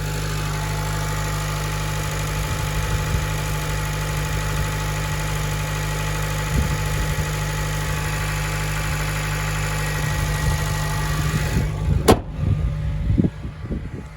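A 2011 Honda Civic Si engine idles steadily and close by, a smooth even drone with no squeal or ticking, running alone for most of the stretch before a few brief knocks and handling noises near the end.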